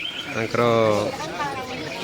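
Birds call at Nandankanan zoo in Bhubaneswar, with a clear cooing or warbling call standing out for about half a second, and a voice talking around it.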